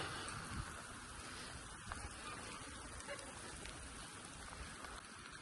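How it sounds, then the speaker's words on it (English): Steady rain falling outdoors on a small farm with chickens, a continuous soft hiss and patter of drops at a constant moderate level with no pauses. "It's raining still."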